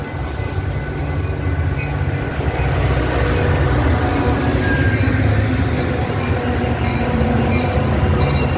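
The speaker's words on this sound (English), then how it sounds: "Northwest train number 649 to Crystal Lake is now arriving." A Metra commuter train on the Union Pacific Northwest line pulling into a station, a loud steady rumble and roar of wheels and cars close by, with faint high squeal near the end.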